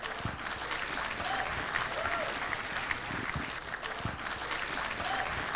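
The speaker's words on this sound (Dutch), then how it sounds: "En dat gebeurt natuurlijk onder een luid applaus." A crowd applauds loudly and steadily as youth players of a Dutch football club come forward at a club event, a dense, even wash of clapping from start to finish with a few faint voices underneath.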